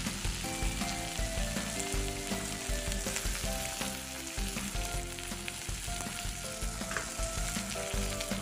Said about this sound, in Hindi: ये प्याज भी डाल देंगे।